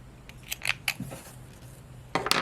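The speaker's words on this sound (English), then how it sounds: "cut our yarn" Scissors snip through crochet yarn in a few quick, close, crisp cuts, a short cluster early on and another pair near the end, with quiet in between.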